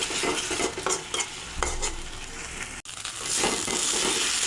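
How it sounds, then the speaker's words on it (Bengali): A paste of onion, ginger, garlic, cumin and tomato fries in a pan for a duck egg curry. It gives a close, loud sizzle broken by repeated scraping and stirring strokes, with a brief pause near the end. "আমি মশলাটা ভালো করে ভেজে নিয়েছি"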